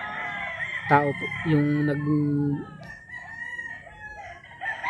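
Gamefowl roosters at a game farm crow loudly, with one long, clear crow in the foreground and a second, fainter one afterward, while someone talks over the yard.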